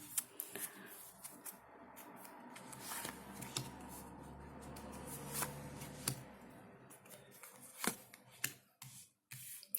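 Soft rustling and riffling of cards being shuffled by hand, with light taps and clicks, close and quiet, no talking.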